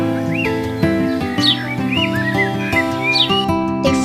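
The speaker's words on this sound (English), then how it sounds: "The bird chirped, songs with its beautiful voice for them." A songbird chirps and sings in a fairy-tale scene, its quick rising whistles and tweets repeating close and clear over a steady musical backdrop.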